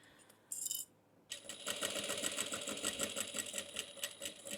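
A sewing machine stitches a retro fabric bag: a brief clatter, then a steady, rapid, rhythmic stitching run, close and fairly quiet.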